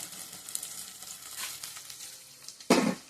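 Spiced mutton dry curry with turmeric, chilli powder and salt being stirred in a pan, a steady close sizzle with scraping clatters and a louder burst of stirring near the end.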